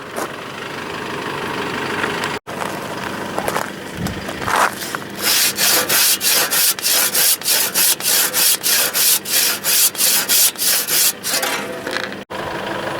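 A handsaw cuts through a tree in the bush near Ravensthorpe, Western Australia. After some initial rubbing, steady rhythmic back-and-forth strokes rasp loudly up close for several seconds and then stop.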